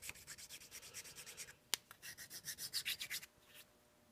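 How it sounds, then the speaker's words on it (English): Hand deburring of a machined metal clamp for a milling machine table, a quick series of rhythmic rasping file strokes up close with one sharp tap partway through, no voices. "We'll deburr again."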